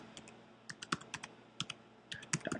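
Keys tapped on a computer keyboard while a web address is entered, a quiet run of irregular clicks with short pauses, close and clear with no voices.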